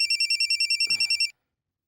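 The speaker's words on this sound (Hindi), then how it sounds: "अरे फोन उठा लो ना, वरना बार बार यूं ही बजता रहेगा।" A telephone rings in an electronic pattern of rapid, evenly spaced beeping pulses for just over a second, then stops. A short rustle sounds partway through, and the ring starts again at the very end.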